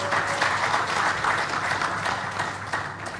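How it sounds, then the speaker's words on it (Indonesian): A seated audience claps for a guest human rights speaker at an Indonesian gathering, a steady, dense wash of applause that holds at an even level from start to finish. "Coba tepuk tangan lagi semua untuk beliau."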